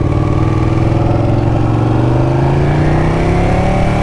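A 2019 Ducati 959 sport motorcycle engine revs loud and close, its pitch climbing steadily through a sustained run with a gritty mechanical edge throughout.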